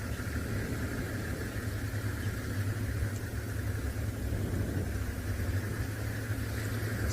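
Steady low rumble of a safari vehicle's engine running at idle out in the bush, constant and fairly close with no talk.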